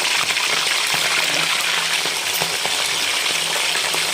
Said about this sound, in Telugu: ఇప్పుడు ఈ చికెన్ అంతా ఈ నూనెలో వేసేద్దాం